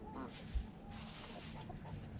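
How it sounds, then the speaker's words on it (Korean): Hens cluck softly amid a busy farmyard background, with one brief low thump and a steady murmur of other fowl throughout. "제리에겐 암탉이 4마리가 되는 셈이다"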